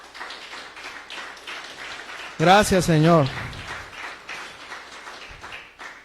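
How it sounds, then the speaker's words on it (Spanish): Congregation applauding in a church service, a burst of clapping and cheering rising over a preacher's amplified voice, with spoken words before and after. "Dele otro aplauso a Cristo"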